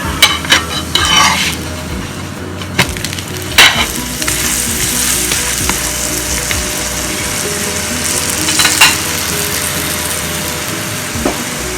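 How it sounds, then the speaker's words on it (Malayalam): Food cooks in ghee on a medium flame in a pan, giving a loud, steady sizzle and crackle throughout, broken by a few sharp scrapes and taps of a utensil turning it. "ഇതിനി ഫ്ലെയിം ഒരു മീഡിയം ഫ്ലെയിമിൽ ഇട്ടിട്ട് ഓരോ സൈഡും ഒന്നൊരു ഗോൾഡൻ കളർ ആവണ വരെ"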